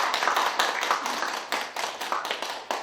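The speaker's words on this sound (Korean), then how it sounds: "운영위원님의 노래에 한 번 더 박수 부탁드립니다." A small audience at a Korean political school lecture claps after a song, a short, moderately close patter of hands with uneven bursts and faint voices.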